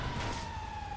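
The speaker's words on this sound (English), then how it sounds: "Oh, watch out, fire truck." A fire truck siren wails in GTA V Online, a steady high tone held through a brief moment at moderate loudness with no voices over it.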